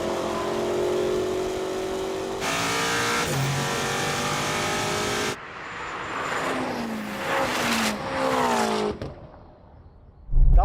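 A Ferrari and a 1000 hp BMW M5 launch in a drag race, engines roaring loud with rising revs, shifts breaking the tone and passes fading off before a closing thump.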